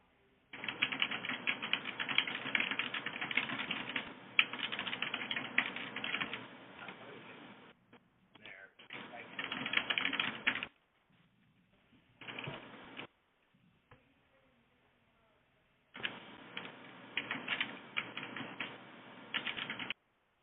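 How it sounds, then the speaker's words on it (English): Bursts of keyboard typing, steady and fairly close, in several runs separated by short pauses and near-silent gaps, with no talking over it. "Here's somebody curiously typing away."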